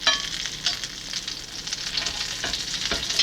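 Stuffed chicken cordon bleu breasts fry in a hot pan with a steady, close sizzle, broken by a few sharp spits and crackles of fat.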